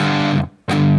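Electric guitar with heavy gain and distortion plays the ending riff of a song with power chords, two loud thick bursts split by a brief silent gap.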